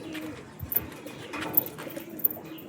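Soft pigeon coos and low burbling calls come from nearby birds, with faint rustling and a few sharp chirps in the background.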